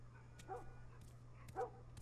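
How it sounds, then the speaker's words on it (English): Dogs barking in the video game The Last of Us: two short, separate barks about a second apart, somewhat distant and moderately loud over a steady low electrical hum. "Probably one of those crazy dogs."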